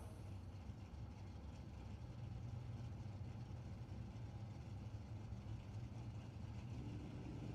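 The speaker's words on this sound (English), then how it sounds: "we'll back the Bonneville up there" A Pontiac Bonneville drag car backs up toward staging at a drag strip, its engine idling as a steady low rumble heard from some distance, fairly quiet and even throughout.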